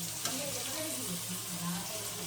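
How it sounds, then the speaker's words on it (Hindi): A steady, soft sizzle comes from a vegetable sabzi frying in a pan, heard up close with faint background noise throughout. "तो बस अब मैं इसको फ्राई कर लेती हूँ।"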